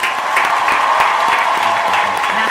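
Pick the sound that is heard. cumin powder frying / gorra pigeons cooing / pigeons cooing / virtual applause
virtual applause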